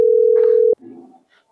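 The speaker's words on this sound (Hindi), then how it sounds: "जीरो 6182 ले फोन लागल बा" A telephone call tone sounds as one loud steady beep that cuts off abruptly, followed by a brief faint murmur of voice.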